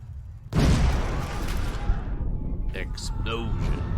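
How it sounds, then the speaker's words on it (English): An explosion in the video game Orwell: a sudden loud boom that settles into a sustained rumbling roar, with a voice speaking over it toward the end. "Explosion."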